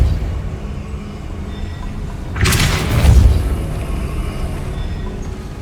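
A Depulso force spell cast in Hogwarts Legacy lets out one sudden booming whoosh, a broad rushing blast that swells and fades within about a second over a low, steady game ambience.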